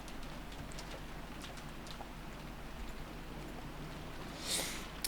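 Steady soft rain hiss fills the scene in the Umineko visual novel, a low, even wash of falling rain with no voices over it.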